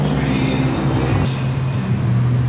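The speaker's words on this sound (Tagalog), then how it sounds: "ito nakabit na yung bago natin yung muffler sa KTM 790 natin" KTM 790 Adventure motorcycle with a new Two Brothers Racing exhaust and cat delete, a steady loud engine rumble with a low droning pitch that drops slightly halfway through, close by and without speech.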